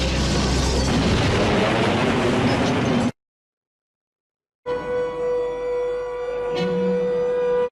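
An explosion in the 1980 film Superman II lets out a loud, broad roaring blast for about three seconds, cuts to silence, then gives way to sustained steady tones.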